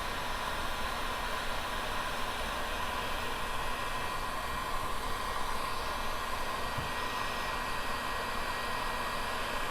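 A hot air tool blows steadily while heating parts for sugar skulls, giving an even, continuous rushing hiss with no pauses throughout.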